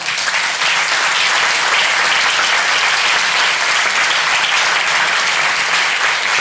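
A conference audience gives sustained, dense applause for three speakers, loud and even from start to finish, with no voices breaking through.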